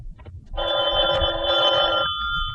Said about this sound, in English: I was just about to turn in when the phone rang